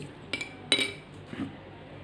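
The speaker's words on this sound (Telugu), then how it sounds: "చక్కగా ఉప్పు మొత్తం కరిగే వరకు కలపండి" A spoon stirs salt into a small transparent glass of water, giving three sharp, quiet clinks against the glass spaced across a couple of seconds, with soft background noise between them.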